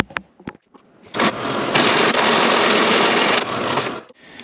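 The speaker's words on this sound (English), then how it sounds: "Let's do some drilling." A power drill runs steadily for about three seconds in a workshop while drilling holes for mini truck suspension bushings, preceded by a few short clicks and taps.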